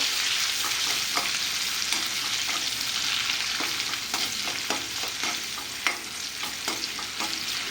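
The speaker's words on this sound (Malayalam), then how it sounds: "ചൂടാകെ എടുക്കുന്നതിലേക്ക് ഇട്ട് കൊടുത്ത് ഇത് വഴന്ന് വരട്ടെ." Garlic, shallots and curry leaves sautéing in a hot pan for a beef fry, a steady loud sizzle with occasional scraping stir strokes, close up and continuous, no voices.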